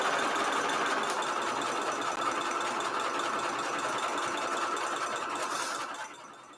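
A sewing machine runs in one steady, continuous whir while stitching a fabric journal cover, then slows and quiets just before the end.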